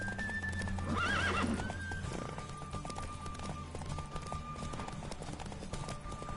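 A horse in The Witcher 3: Wild Hunt whinnies loudly near the start, then gallops on with rapid rhythmic hoofbeats over a busy game backdrop of music and ambience.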